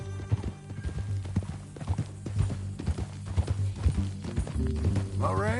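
Horse hooves clip-clop at a steady trotting rhythm in the video game Red Dead Redemption 2, close and prominent under low droning music and ambient sound.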